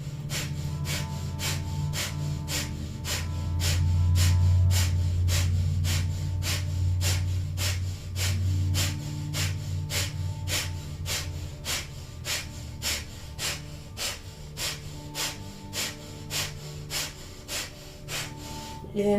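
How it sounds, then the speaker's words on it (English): Rapid, rhythmic breath of fire in Kundalini yoga, sharp nasal exhales pumping at a fast even pace throughout, close and clear over a soft background drone of music. "powerful breath of fire."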